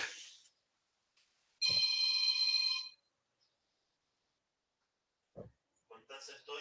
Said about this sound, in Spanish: tengo un ruidito acá que apago el teléfono